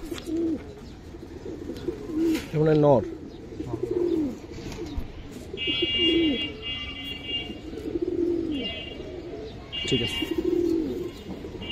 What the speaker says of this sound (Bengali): ওই কবুতরটা একটু দেখান তো ভাই পিছনে